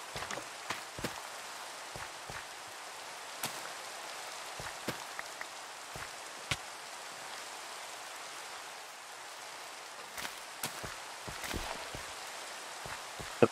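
Steady Minecraft rain falling as a constant wash of hiss, with scattered sharper drip-like ticks and taps popping out at irregular moments.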